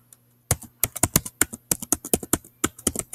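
Rapid, uneven typing on a computer keyboard, a close, crisp run of dozens of key clicks with short pauses, no voices.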